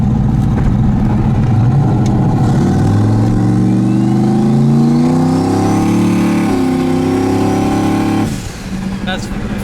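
A turbocharged LSX-swapped Chevrolet Colorado pickup accelerates hard, its deep V8 roar rising steadily through the revs for several seconds before the throttle lifts abruptly, loud and close from inside the cab.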